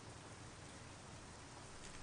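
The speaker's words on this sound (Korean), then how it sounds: "천둥이 치면서 비가 오고 있습니다" Steady rain pours in stormy winter weather in Euro Truck Simulator 2, a dense, constant hiss with no distinct thunder clap standing out.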